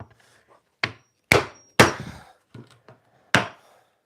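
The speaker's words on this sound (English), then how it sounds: "Jab yourself, Marcus, with a claw hammer." Claw hammer striking wood at a workbench in a woodworking shop, with about five sharp, close knocks spaced irregularly and loud against a quiet background.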